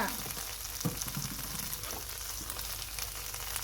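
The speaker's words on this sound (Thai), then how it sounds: "ผัดกุ้งค่ะ ใส่กุ้งสี่ตัวนะคะ" Shell-on shrimp, four of them, stir-frying in a little oil in a pan for pad thai, giving a steady, loud, continuous sizzle with occasional stirring scrapes throughout.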